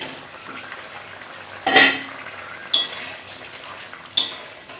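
A metal lid clanks as it is lifted off a pot of tomato rohu fish curry: three sharp clinks spaced about a second apart over a soft simmer.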